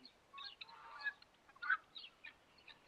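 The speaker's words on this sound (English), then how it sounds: "like you can hear the birds and the owls and stuff like that" Faint farm birds, fowl-like clucks and honking calls, sound intermittently in the distance outdoors, soft and scattered over a quiet background.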